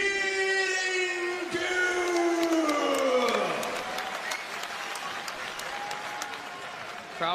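Fight crowd in an arena applauding and cheering with a loud, steady roar of clapping and voices that tapers slightly; a sustained wailing tone sweeps down over the first few seconds.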